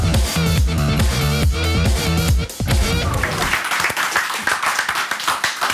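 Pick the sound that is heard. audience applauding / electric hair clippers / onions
audience applauding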